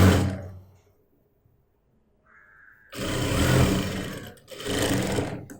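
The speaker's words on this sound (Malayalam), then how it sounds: "സ്റ്റിച്ചിങ് സ്റ്റാർട്ട് ചെയ്യാം" A sewing machine stitches fabric from an old vest into bermuda shorts in two loud, close whirring bursts of about a second each, after a soft low hum and a short faint tone.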